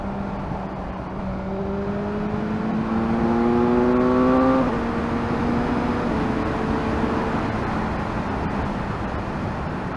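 BMW S1000R motorcycle accelerating hard in fourth gear on a dual carriageway, engine note climbing steeply under wind roar for several seconds, then settling to a steady drone as the throttle eases.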